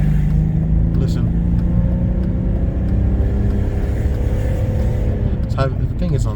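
A faulty BMW car in limp mode struggling to move after leaving the freeway, giving a loud, steady low engine drone with a wavering tone, a pitch shift around the middle and a rougher burst near the end.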